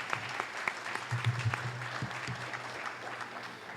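Clapping from an audience at a housing conference, a steady patter of many hands at moderate volume, with a low hum and faint murmuring voices underneath.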